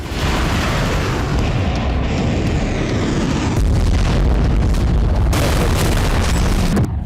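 A Ukrainian strike on Russian air defenses and radar sets off a loud, sustained explosive rumble: deep, roaring booms with a heavier burst midway, continuous for several seconds without any voices.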